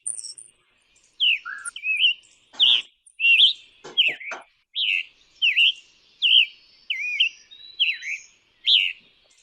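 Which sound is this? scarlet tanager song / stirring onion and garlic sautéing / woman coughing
scarlet tanager song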